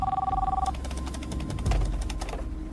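A telephone bell rings in loud repeated bursts with a steady electronic tone at the start, fairly close and with no talk over it.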